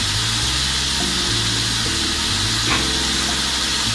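Chili and coriander powders fry in a pan with tomatoes, a steady broadband sizzle running unbroken throughout with low hum beneath, no voices.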